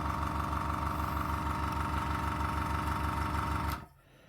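Fengda air compressor humming with a rapid steady piston pulse as it fills its tank, then cutting off abruptly near the end and leaving quiet room tone.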